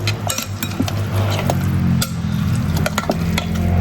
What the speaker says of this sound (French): Ce que je vais faire, c'est que je vais bien mélanger mon mélange.